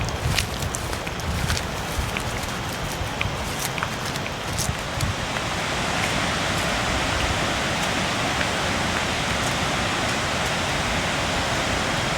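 A waterfall near Pakxong gives a steady, broad rushing roar that fills the whole stretch and grows slightly louder partway through, with a few faint clicks and rustles near the start and no talking.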